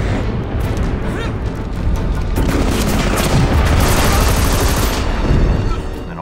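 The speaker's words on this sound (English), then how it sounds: "Lewis James, who's the lead sound designer, has developed the guns for this game." Gunfire from the video game Army of Two: The 40th Day, dense and continuous shots and booms forming a loud, unbroken barrage that swells slightly midway.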